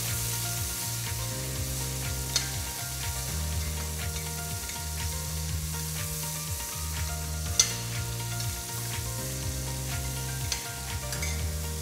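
Tomatoes frying with salt in a pan, a continuous close sizzle with occasional stirring taps under a steady low hum, no talking.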